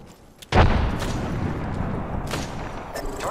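In Apex Legends, a frag grenade goes off with one sudden loud blast, followed by a long rumbling tail and scattered gunfire.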